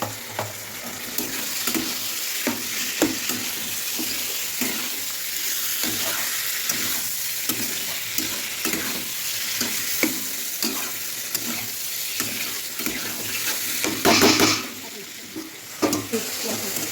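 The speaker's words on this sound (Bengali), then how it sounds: "মাংসটা কষানো হয়েছে" Meat with salt sautéing in a pan, a continuous loud sizzle with rhythmic scraping strokes of a spatula throughout and a brief louder hiss near the end, with no talking.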